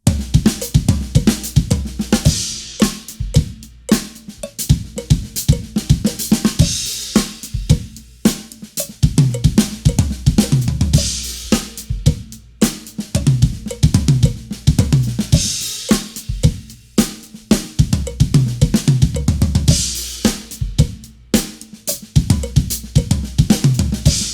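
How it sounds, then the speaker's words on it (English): A drum kit plays a fill in a repeating right, left, kick sticking, and the accents and orchestration keep shifting. The hits are loud, close and punchy, with dense rhythmic patterns of kick, snare and cymbals running continuously with no talk. "I'm gonna play right, left kick, right, left kick, right, left kick, right, left kick, right, left the entire time"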